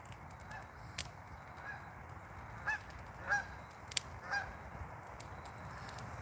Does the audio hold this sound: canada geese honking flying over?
yes